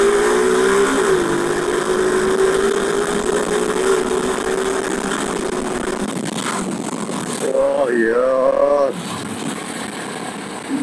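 A motorcycle with an aftermarket exhaust idles loudly and close, then revs up sharply in a couple of short rising bursts and settles again.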